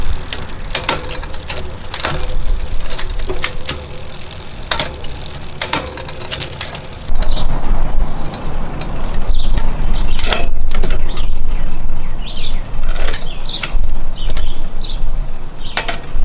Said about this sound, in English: I'll cut to the footage of me shifting up and down